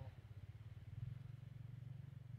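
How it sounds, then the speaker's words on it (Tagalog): A low, faint engine drone pulses steadily in the distance, a motorcycle idling or cruising far off with no other sounds nearby. "Rinig mo yung tunog ng motor."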